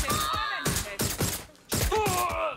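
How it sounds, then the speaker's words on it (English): A nail gun fires in the video game Watch Dogs Legion, loud sharp repeated shots with harsh impacts, spaced irregularly and overlapping with game noise. "let's just bring out the nail gun"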